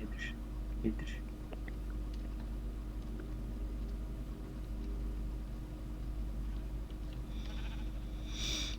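Sheep in the Minecraft video game bleat in a few short, faint calls over a steady low game hum, with quiet talk in between.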